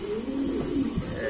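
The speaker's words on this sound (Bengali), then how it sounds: "এটা হচ্ছে মাল্টেস কবুতর দেখেন।" Maltese pigeons at a pigeon seller's farm coo in a steady, low, rolling murmur, close and fairly loud throughout the short stretch with no talking.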